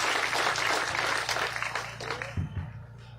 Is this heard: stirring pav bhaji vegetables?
no